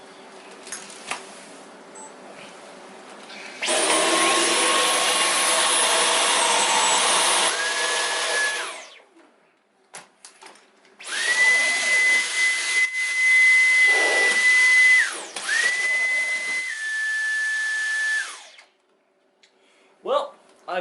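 Dyson V11 Animal cordless vacuum on carpet, several loud whooshing runs of rushing airflow with a steady motor whine, separated by quiet pauses, with a person talking faintly in between.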